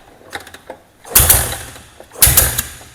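A sport motorcycle engine being kick-started after a valve clearance adjustment, heard up close as two loud, rough compression surges a second apart after some light mechanical taps, with no sustained running.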